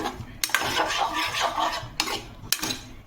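Rice paste is being stirred into a cooking pot, making a scraping, rubbing churn with a few sharp metallic clinks of a spoon against the pot.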